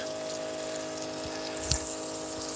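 Water runs steadily from a garden hose on a family homestead beside tomato plants, a continuous near splash over a constant tonal hum, with no talk.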